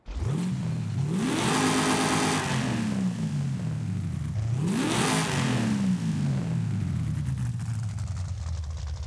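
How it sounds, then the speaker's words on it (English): A 1996 Chevy Impala engine with street tuning in Forza Horizon 5 revs twice, climbing sharply in pitch and winding back down toward idle, loud and close with no talk. "camshaft and intake also can change the pitch and tone of the engine."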